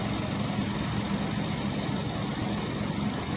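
Car engine idling during a temperature gauge test, a steady low rumbling hum with even vibration, close and constant throughout, with no voices.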